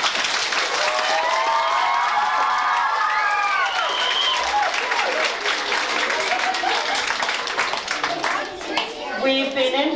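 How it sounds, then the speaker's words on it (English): Big audience applause at a Christmas concert, loud continuous clapping from a packed hall lasting the whole ten seconds, with voices and a child calling out through it. "I think before we leave we should give a big applause to Mr. Drover."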